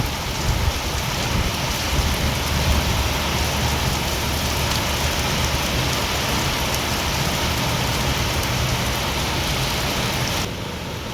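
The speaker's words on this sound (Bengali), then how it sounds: "প্রচুর বৃষ্টি গো, প্রচুর বৃষ্টি। দেখো কত সুন্দর বৃষ্টি পড়ছে" Heavy rain pours steadily and densely, a loud continuous hiss of drops drumming on surfaces with no voices, easing slightly near the end.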